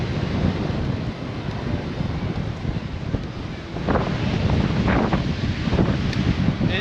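Strong onshore wind buffets the microphone while high-tide waves wash and surge along the shore below, a dense continuous roar with a few brief splashes standing out.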